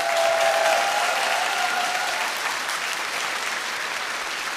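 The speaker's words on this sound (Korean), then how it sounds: "모든 친구들에게 다시 한번 큰 응원의 박수 부탁드립니다." Studio audience at a KBS children's singing contest gives the contestants a big round of applause, loud and dense at first, then tapering gradually, with a faint held tone early on.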